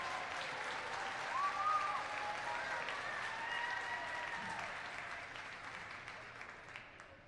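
A crowd applauds at a unified bocce match between two high school teams, steady clapping heard from some distance, moderately faint and sustained throughout.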